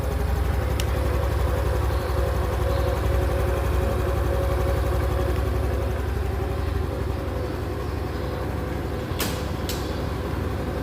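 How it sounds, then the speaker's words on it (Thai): A 2023 Honda Wave 110i motorcycle with a new engine, 47 mm bore and 63.1 mm stroke, idles nearby in a steady, even drone, with a couple of brief clicks and no talking. "ตัวนี้ก็เป็นเครื่องตัวใหม่นะครับ"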